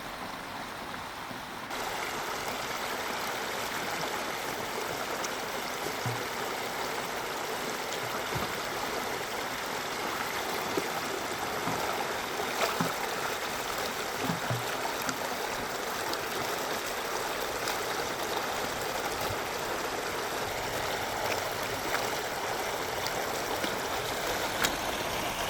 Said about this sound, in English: as long as the water is draining downstream, then it helps prevent the water from backing up upstream